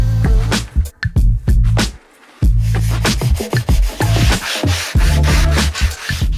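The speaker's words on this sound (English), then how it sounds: "I insert a rounding bit and carefully run it over each sawn edge once more." A Parkside router with a rounding bit is run along the sawn edge of a wooden balcony bar panel, making a loud close scraping, rubbing buzz with a steady low hum and one brief pause.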